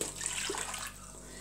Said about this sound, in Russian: Кипяченой воды.